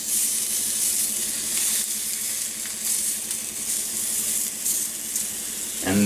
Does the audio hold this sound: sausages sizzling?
yes